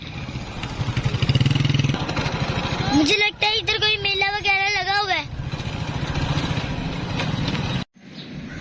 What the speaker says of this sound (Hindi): ये वो रास्ता है जिस रास्ते से हम रावी के अंदर मोटरसाइकिल से जा सकते हैं।